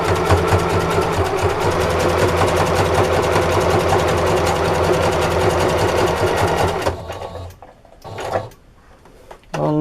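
Sewing machine stitching a homemade microfiber sponge, a fast steady mechanical whirring run that stops, followed by a couple of short bursts and quieter handling.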